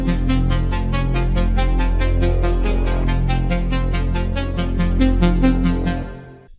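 A single held note from the Serum synth preset Arp Strangers: a big, wide future bass sound with a fast, steady arpeggiated pulse that chops rapidly for about six seconds at full volume, then cuts off. No voices.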